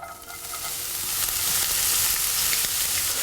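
Finely chopped onion and celery sizzling in hot olive oil in a pan, a bright steady hiss that builds slightly and holds close and alone.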